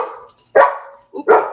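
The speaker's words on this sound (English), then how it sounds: "Oop, let me put the doggy out." A dog barks twice at home, two loud, close, sharp barks a little over half a second apart, with no talk over them.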